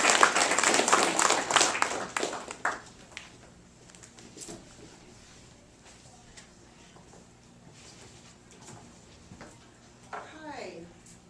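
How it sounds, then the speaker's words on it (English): Audience applause in a bookstore reading room, a burst of clapping for a few seconds that fades out, followed by quiet room tone and brief talk near the end. "can we get a round of applause for Michelle, our sign language teacher?"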